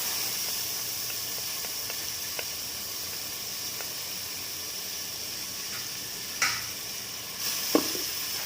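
Onions fry in a pan with a steady, hissing sizzle, punctuated by a couple of louder stirring scrapes toward the end, with no one speaking.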